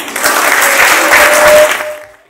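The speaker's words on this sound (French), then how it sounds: "Applaudissez pour vous-même." A crowd at a party's 38th anniversary celebration in southern Cameroon claps loudly and close, the burst sustained for about a second and a half before fading quickly.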